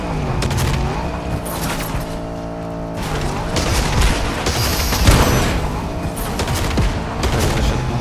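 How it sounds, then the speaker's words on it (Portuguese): A car explodes amid gunfire in a Fortnite Duos match, with a droning engine tone under rapid shots and a heavier boom near the middle, followed by continued loud bursts of fire. "Teu carro vai explodir."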